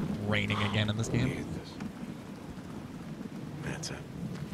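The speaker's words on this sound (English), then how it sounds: "Raining again in this game." Steady rain patters with a low rumble of thunder in the video game Days Gone, while a person talks briefly at the start over the downpour.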